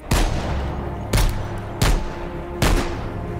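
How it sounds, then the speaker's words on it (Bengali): Four loud gunshots from a gun or pistol during morning target practice, each a sharp close crack with a ringing tail, spaced about a second apart with no voices. "প্রত্যেক দিন সকালবেলায় বন্দুক বা পিস্তল নিয়ে তার লক্ষ্যবিদ্ধ করার অভ্যাস করতেন।"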